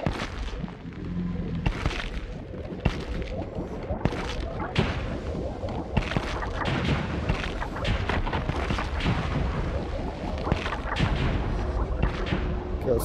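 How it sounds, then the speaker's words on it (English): Rapid booming explosions and sharp blasts from a video game go off one after another, loud and dense throughout, with rumbling between the bursts. "Let's turn off the explosions."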